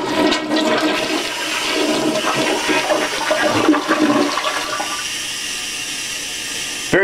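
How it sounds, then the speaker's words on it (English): A Kohler toilet in a hotel bathroom flushes loudly with a rushing, gurgling swirl of water that runs for about five seconds, then settles into a quieter refill hiss. "let's see what flush this has."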